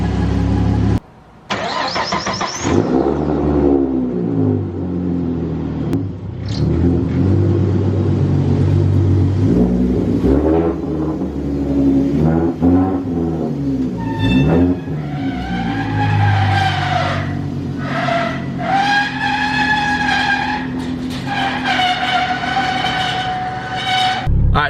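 A supercharged GT500 Mustang with a 3.7 V6 and M122 blower, fitted with a new throttle body, starting and revving as it drives, with rising and falling engine pitch, a whining tone and brief breaks, close and loud.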